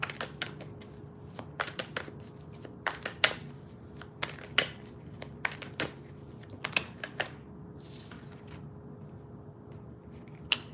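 Tarot cards are shuffled by hand in a quiet room, giving a series of crisp, irregular riffling clicks and flicks with brief pauses, fairly close and soft, without talking.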